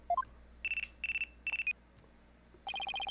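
A phone rings in the Apollo Justice Ace Attorney video game: a short rising chime, then repeated electronic beeping trills in bursts, closing with a faster warbling ring, clear with no talk.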